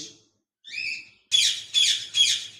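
A pair of cockatiels, an albino red-eye male and a lutino red-eye female in a cage, give a short whistled call followed by three loud, harsh squawks in quick succession, close and clear with no talking.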